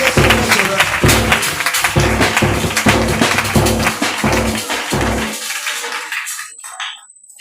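Church congregation applauding to acclaim Jesus, loud rhythmic clapping from many hands for about five seconds before it stops abruptly and leaves near silence with a faint high tone.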